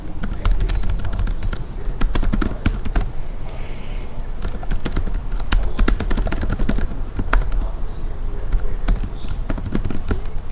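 Two hands type on a computer keyboard in a quick, uneven patter of sharp key clicks with brief pauses, close and fairly loud.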